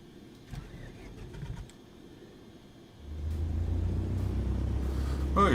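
A light aircraft engine cranks and starts in Microsoft Flight Simulator 2020, a few clicks and brief churning followed by a steady low rumble that settles into a continuous idle.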